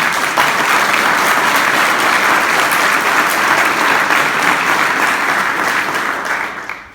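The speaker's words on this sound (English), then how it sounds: "just a moment of applause and appreciation" Sustained applause from an audience at a White House gathering of school superintendents and tech executives, loud and even for several seconds before fading out at the end.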